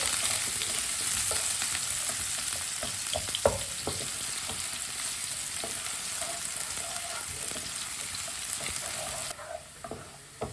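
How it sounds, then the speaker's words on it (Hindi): Finely chopped onion frying in a pan for aloo tikki, a steady close sizzle with scattered crackles and a few soft stirring knocks, no talking. "एक बारीक कटा हुआ प्याज, प्याज को हल्का सा ब्राउन कर लेंगे"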